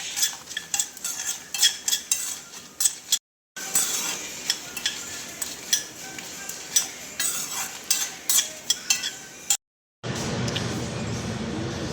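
Dried vathal being fried in hot oil in a pan for mutton kolambu, with scattered clinks and scraping of a spoon against the pan over a steady sizzle and two brief gaps.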